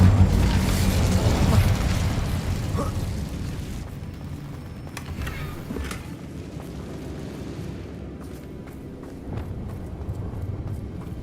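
An Incendio fire spell cast in the video game Hogwarts Legacy bursts out as a loud, roaring blast for a few seconds, then fades into a lower rumble with a few softer crackling hits near the end.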